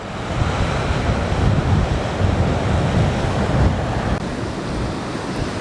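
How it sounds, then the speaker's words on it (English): Heavy sea waves crash and surge against coastal rocks near a lighthouse stretch of shore, a steady loud roar of churning surf mixed with gusty wind buffeting the microphone. "When you look at the power of the sea against these rocks"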